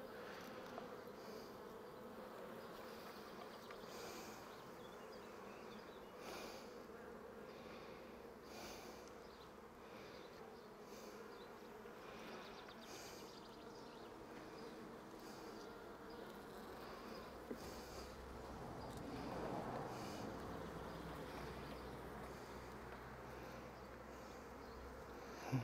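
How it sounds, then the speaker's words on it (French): Bees buzzing around an open beehive during handling, a continuous dense hum of many insects at a moderate, steady level with no talk. "Et là, je me fais piquer parce que je pince une abeille."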